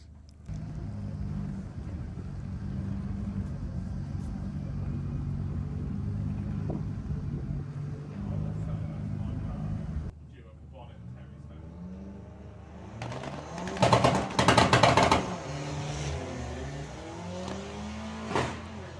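Drag racing cars, including an Audi A6, sit at the line at Santa Pod during the VW Summer Nationals eliminations. A deep, steady engine rumble gives way to quieter stretches with voices and sharp bursts of louder noise.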